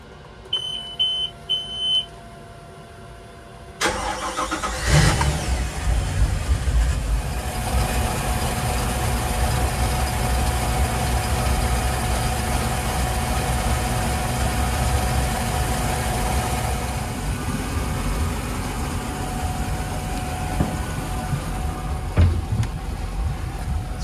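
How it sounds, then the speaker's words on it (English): Engine of a 2008 Campion 682 Sport boat, recently serviced with a new belt and seawater pump, cranking and catching after a few short beeps, then settling into a smooth, steady, fairly quiet idle that runs on alone. "And we'll do an engine startup here."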